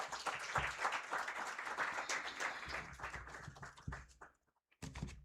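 A live audience at a gender-equality event bursts into dense, sustained applause for about four seconds, fades to near silence, then starts clapping again briefly at the end.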